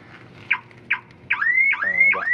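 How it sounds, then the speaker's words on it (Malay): A car alarm sounds close by during a test after the doors are locked, with a few short chirps followed by rising, warbling siren tones. "Nampaknya dia berfungsi baik alarm ini."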